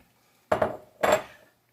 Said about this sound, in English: We'll go ahead and pour those in the blender.